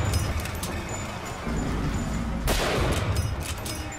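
Gunfire in the first-person shooter Bioshock Infinite, a dense continuous volley of shots and impacts layered over game background noise, with a louder burst about midway through.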